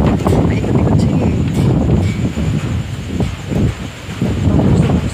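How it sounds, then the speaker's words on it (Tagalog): Typhoon Ambo's strong wind roars continuously around a house in the Philippines, a loud, rough rumble with gusting swells and small rattles throughout. "Malakas po ang hangin."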